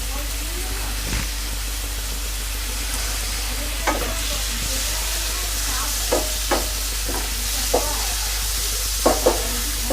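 Finely chopped garlic and ginger fry in a hot pan while a utensil stirs them, giving a steady sizzle broken by scattered spoon scrapes and taps; a faint voice may sit underneath.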